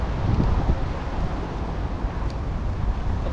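Wind buffets the microphone in rough, low rumbling gusts for a few seconds, with no voices.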